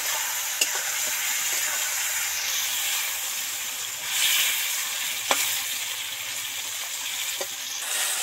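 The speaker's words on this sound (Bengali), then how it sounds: "আলুগুলো ছাঁকা তেলে ভাজা হয়ে যাচ্ছে" Big potato pieces deep frying in plenty of hot oil, a continuous close sizzle and hiss punctuated by a few sharp spatters and stirring knocks, no voices.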